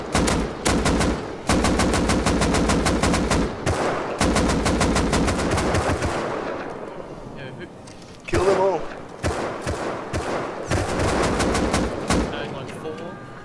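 Rapid bursts of automatic gunfire in a Rust PvP fight, loud and close, fired in long volleys with brief gaps, with a voice breaking in briefly midway.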